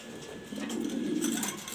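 A male pigeon gives a short, low coo while chasing a female, close by and moderately loud.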